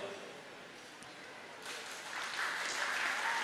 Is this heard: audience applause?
yes